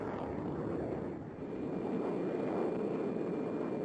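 A fighter jet engine roars steadily at a distance in a broad, continuous rush that dips briefly, then swells again and holds.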